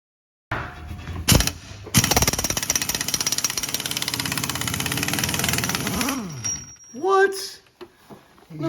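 An impact wrench hammers loudly and continuously for about four seconds on a transmission bolt of a BMW E39 M5 Getrag 420G gearbox, then winds down, followed by brief talk.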